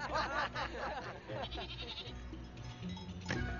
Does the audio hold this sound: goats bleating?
yes